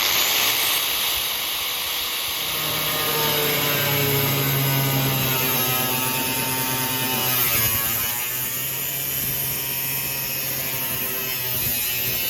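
A reciprocating saw cuts through a vehicle roof during a bubble roof install, a loud continuous buzzing drone up close with the pitch shifting slightly as the blade works through the metal.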